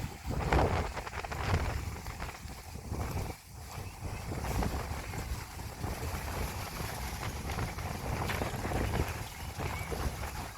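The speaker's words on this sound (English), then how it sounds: "How fast the wind's blowing." Strong wind blowing outdoors before rain, a continuous loud roar and buffeting against the microphone with gusty swells throughout.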